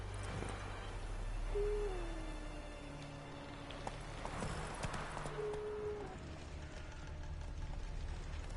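Geralt's horse Roach in The Witcher 3 gallops with steady clip-clopping hooves at a moderate distance, joined by a brief whinny-like tone, over a low ambient game soundscape with no talking.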